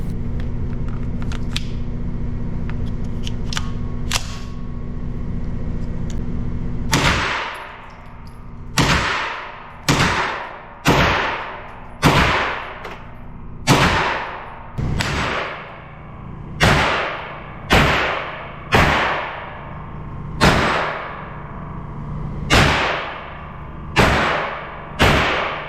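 Gunshots from an SW FPC gun being zeroed at 20 meters, about a dozen sharp, loud reports at a steady pace, each ringing out briefly, after a stretch of low background hum.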